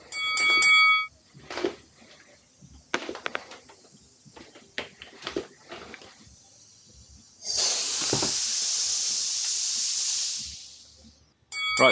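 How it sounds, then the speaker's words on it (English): Air hisses loudly and steadily from a leaking DIY tubeless tyre inflator for several seconds, a broad bright rush that cuts off abruptly, preceded by scattered clicks and handling knocks. "It's clearly leaking out of here, even though I've screwed these down as hard as I can."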